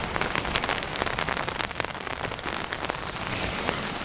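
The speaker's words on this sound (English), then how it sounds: "here comes that rain. Oh, you hear it on the roof" Rain drums steadily on a beach shelter roof at Great Yarmouth's South Beach at night, a dense, even patter of close drops with no break.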